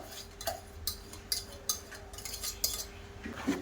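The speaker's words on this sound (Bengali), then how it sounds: "ব্যাটারের সঙ্গে ভালোভাবে কাঁঠালটা মিশিয়ে নেব।" Jackfruit being stirred into poa pitha batter in a bowl, with a utensil clinking against the dish in irregular taps and scrapes, close and fairly quiet, no one speaking.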